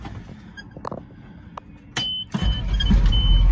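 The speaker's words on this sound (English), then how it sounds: "I'm gonna go ahead and start it for you." A 1984 GMC diesel dump truck is started close by: a few clicks and a brief cranking whirr, then the engine catches and settles into a loud, low, rough rumble.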